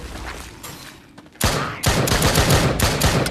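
Bursts of rapid gunfire in the shooter game Drop Dead Dual Strike, a quieter scattered stretch followed by loud, close, sustained volleys of repeated shots that continue to the end.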